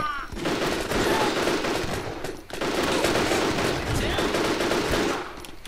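Sustained rapid gunfire from a video game battle, loud and dense with bursts of automatic fire running almost unbroken, dipping briefly mid-clip before resuming.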